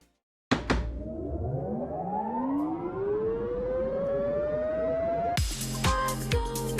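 Rising synth riser from a modular game-music system built in Unreal Engine 5, a sweeping pitch climbing steadily over a noisy swell after a sharp hit, then cutting into a loud rhythmic music start.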